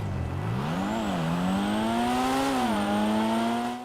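A Toyota Supra in a Rockstar video game launches hard, its engine note climbing loudly and steadily, dipping briefly at two quick gear changes before pulling up again.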